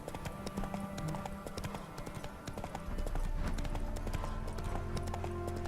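In The Witcher 3, the horse Roach gallops with fast, steady clip-clop hoofbeats, loud and close throughout, over a low rumbling game background.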